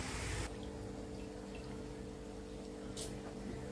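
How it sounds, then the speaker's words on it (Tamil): A pot of water for meal maker biryani bubbles at a low, steady boil, faint and continuous, with a short louder burst near the start and a brief clatter later. "இப்போ தண்ணி கொதிச்சிருச்சு"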